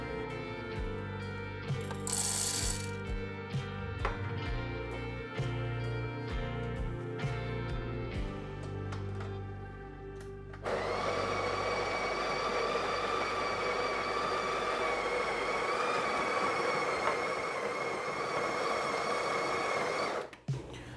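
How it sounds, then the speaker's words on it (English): A Breville Barista Express grinds 18 grams of coffee beans with a loud, steady, gritty whir after several seconds of clattering and tapping handling noises, running alone until cutting off near the end. "Okay, that's 18 grams and then let's grind it."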